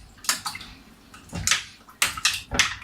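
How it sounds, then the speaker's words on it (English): Water kefir is stirred in a jar: several close, splashy sloshes come in quick uneven bursts, each a short liquid swirl against the glass, with no talk. "So I'm giving that a nice little stir."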